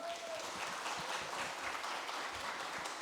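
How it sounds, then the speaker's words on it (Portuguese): An audience at a corporate innovation event gives a round of applause to welcome a speaker. The clapping is even and sustained but faint and somewhat distant. "Vamos receber com uma salva de palmas Renata Bustamante."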